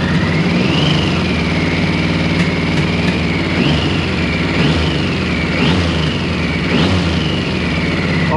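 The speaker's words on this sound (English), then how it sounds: "I'm revving the engine just to enhance the spark, the flame in the cylinder, so you can see it better" Engine of a 1994 Triumph Sprint 900 motorcycle running rich during carburettor tuning, a steady loud idle rising into a few repeated short revs, close by with no talking.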